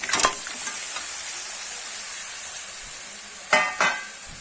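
Crab and potato pieces dropped into hot spiced oil for a Bengali crab curry, giving a soft continuous sizzle with a couple of sharper bursts of frying and stirring near the end.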